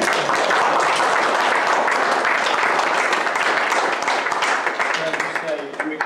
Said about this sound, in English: can we have another round of applause for the Lord Mayor?